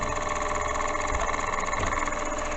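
Milling machine running steadily at about 1200 RPM, a loud continuous mechanical hum and whine with a constant drone and no breaks throughout.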